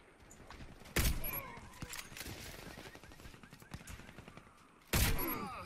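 Two loud sniper shots from a VSSK Vykhlop rifle in the shooter game Warface, spaced about four seconds apart, each a sharp blast with a decaying tail over quieter game ambience.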